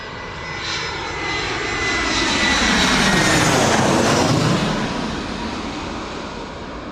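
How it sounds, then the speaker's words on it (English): An EasyJet Airbus A320 jet comes in to land at Bristol Airport, its engine roar swelling to a loud broadband peak mid-pass and then easing off as it moves on. "EasyJet coming in, A320."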